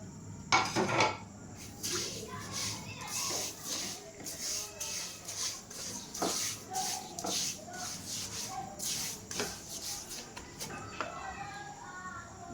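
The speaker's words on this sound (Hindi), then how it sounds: "तो इधर हमारा घी गर्म हो चुका है, तो इसमें अब हम चीनी डालेंगे।" Sugar goes into hot ghee in a pan for halwa and is stirred, giving repeated metallic scraping and clinking of a spoon against the pan, fairly close, with no talk.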